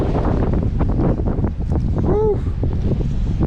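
Strong wind on open water buffets the microphone in a loud, continuous rumble with gusty surges, close and rough, and no voices.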